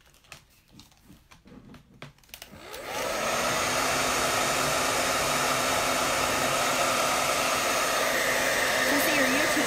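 A hair dryer blows on fresh paint, starting after a few soft handling noises and rising within about a second to a steady, loud, continuous whoosh with a faint whine that holds to the end.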